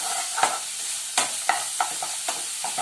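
Grated carrot sautés in ghee in a pan, giving a light sizzle punctuated by sharp scraping clicks of a spoon stirring every fraction of a second, close and clear with no voices.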